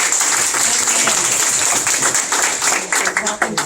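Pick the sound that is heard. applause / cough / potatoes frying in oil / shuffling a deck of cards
applause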